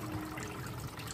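Water drains from a roughly 30-year-old Godrej washing machine as a soft, steady rushing trickle, faint and continuous, with no talking.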